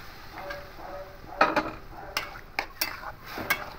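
A spoon scrapes and clinks in a pot as boiled peas are stirred into tomato masala for ghugni. Scattered sharp taps and scrapes come at an irregular pace, close and fairly quiet, with no talk.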